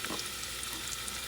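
Chopped onions hitting hot oil in a pan for a bison meat sauce, a steady hissing sizzle that stays level and moderately close with no talking.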